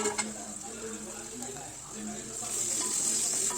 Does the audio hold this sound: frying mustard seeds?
yes